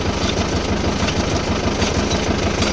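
A Mahindra tractor engine runs steadily with the PTO engaged, a loud, even, close mechanical drone with constant low rumble and no pauses.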